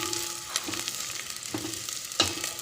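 Sliced onions frying in oil in a pan for egg biryani, a steady broadband sizzle close by with a few sharp stirring clatters and scrapes at intervals, no talking.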